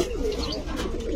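A pair of Jakgola pigeons coo softly and repeatedly at close range, with low rolling throaty calls overlapping in a shop setting.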